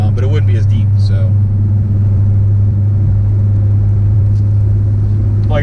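A Nissan Skyline fitted with an HKS exhaust and mid muffler cruises steadily, its deep low exhaust drone holding constant and loud inside the cabin while a voice talks briefly at the start.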